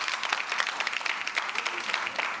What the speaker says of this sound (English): I'm looking at a bunch of young people who are clapping their hands